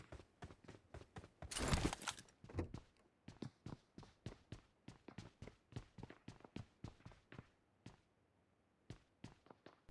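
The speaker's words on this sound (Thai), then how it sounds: "เหมือนได้ยินเสียงเท้าใกล้ๆนะครับ" Nearby footsteps in the mobile battle royale game PUBG Mobile, a steady run of sharp taps close by with a brief louder burst of noise early on, no talking.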